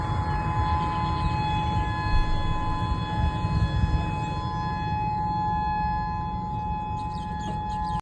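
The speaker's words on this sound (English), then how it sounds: "You can hear the sirens going off." A civil defense siren for a tsunami evacuation in Hawaii wails steadily in the distance, a sustained tone over a low rumbling background throughout.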